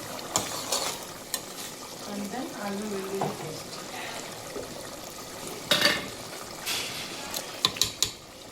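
Chicken pieces cooking with ginger garlic paste in a pan over high flame, with intermittent stirring scrapes and clinks over a low steady sizzle, while someone speaks quietly in the background.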